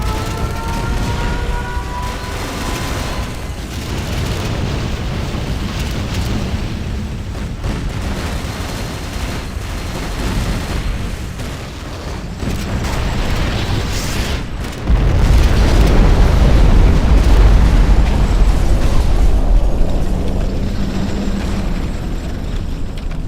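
A nuclear missile explodes in the Command & Conquer Generals video game, heard as a long, loud, rumbling roar of explosions and booms that surges heavier about midway through and stays dense without speech.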